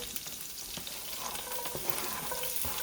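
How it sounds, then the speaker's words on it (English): Chopped shallots sizzle in a hot pan, a soft, continuous crackle with occasional stirring clicks, fairly quiet and close. "Chopped shallots going in. We're going to stir that around a little bit."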